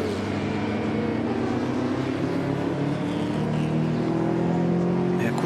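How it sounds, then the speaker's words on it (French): Motorcycle engines at a 24-hour endurance race, a steady loud drone with rising engine pitch as a bike runs off the track, continuous throughout with faint background voices. "Une moto qui sort."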